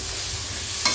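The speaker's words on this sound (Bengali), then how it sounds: "আর রাঁধুনি বাটাটা দিয়ে খুব ভালো করে মিশিয়ে নেব।" Radhuni paste gets stirred into shukto frying in a pan, a close, steady sizzle with soft scraping of the spoon.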